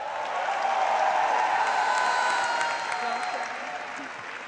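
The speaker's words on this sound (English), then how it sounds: "And another round of applause" An audience at an evening show applauds in a steady, dense wash of clapping that holds for several seconds, with a faint voice or crowd murmur underneath.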